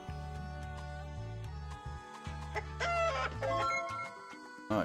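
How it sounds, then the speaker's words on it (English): Game chicken in a dungeon crawler clucks and crows in loud, clear calls, first as a steady repeated clucking pattern, then a rising crowing cry, with no talk. "Crazy chicken!"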